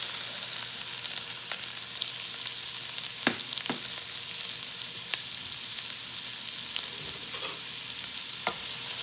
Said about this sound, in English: Butter is melted. I'm going to turn the heat down just a little bit. I'm going to add the onions.